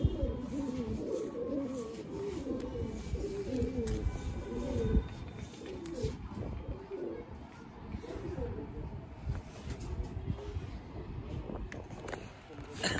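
Hyderabadi pigeons cooing in a loft, soft repeated throaty coos mixed with wing flutters and rustling, with people talking in the background throughout.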